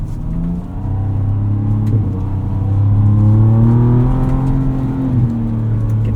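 2026 Ford Ranger Raptor truck engine revving while crawling off-road in 4 low, a loud, close, steady rumbling drone that climbs and shifts pitch, with no talking.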